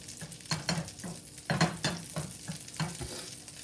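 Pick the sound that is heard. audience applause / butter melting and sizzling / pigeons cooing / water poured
butter melting and sizzling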